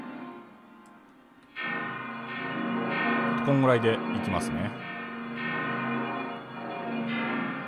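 A Native Instruments HYPHA software synth sustains a steady tonal note, swelling louder partway through, with a brief brighter rising pluck passage near the middle and someone speaking briefly at the start.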